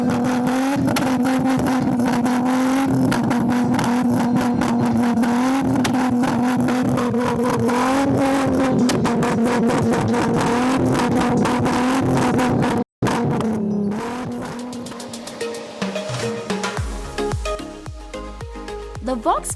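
A 2.8-litre straight-six car engine with modified induction and exhaust, loud and close, holding a steady droning rev before a brief cut, then rougher, uneven revving as it settles.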